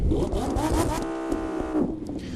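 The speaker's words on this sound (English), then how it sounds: "The Lamborghini has one of the best afterburn effects you'll ever hear on a car" A Lamborghini in the racing game The Crew 2 revs hard, its engine note climbing and holding in a loud, steady harmonic whine, then dropping away with crackling afterburn.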